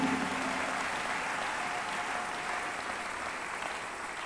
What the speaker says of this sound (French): Can you clap the hand for the Est-ce que vous Lord?